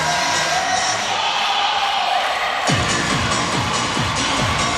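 Crowd at the 2019 Division II men's basketball championship game in Evansville roars in a dense, steady wall of noise with yells mixed in, and a rhythmic thumping joins partway through.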